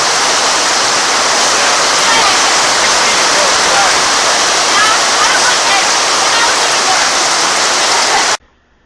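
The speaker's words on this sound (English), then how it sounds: "And then the rain came." Heavy rain pours steadily at an outdoor rally, a loud dense roar that stays constant for several seconds before cutting off abruptly.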